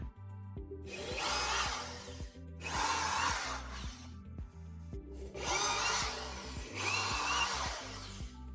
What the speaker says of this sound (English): I'm gonna use a smaller drill bit, like so, just to create a hole so I can have a direction to follow